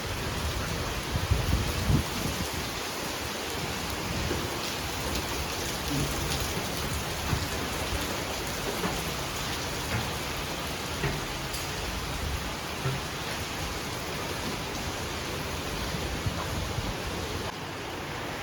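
Steady rain falls beneath apartment blocks in Singapore, a dense continuous hiss of drops on hard surfaces with a few louder splashes, no voices over it.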